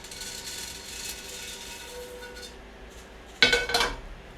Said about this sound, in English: Now to stop that process, we're going to go ahead and put them in a colander.